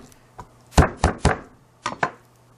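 A kitchen knife blade is pressed down hard on a garlic clove on a cutting board, giving three close, sharp crunching thuds in quick succession, then two lighter knocks.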